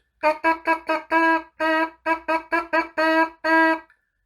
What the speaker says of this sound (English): 1, 2, 3, buzz.